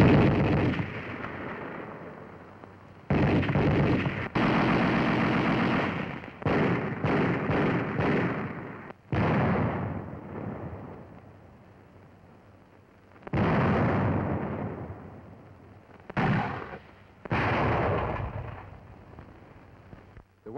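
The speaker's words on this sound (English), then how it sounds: "you will hear the various sounds of these weapons when you are on the receiving end of their fire" Infantry division weapons fire in heavy bursts on an old army training soundtrack: loud, booming volleys and rapid reports come in uneven clusters, separated by quieter rumbling gaps.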